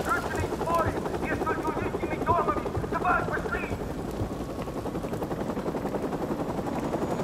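Heliborne unit's helicopter in Call of Duty: Modern Warfare Remastered thuds with a rapid, steady rotor chop throughout, mixed with bursts of distant gunfire and a voice talking over it.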